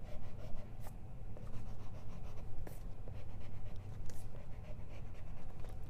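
Pencil sketch lines scratched loosely across paper in quick repeated strokes, close and soft, a steady rubbing scratch with brief pauses, ahead of adding watercolour.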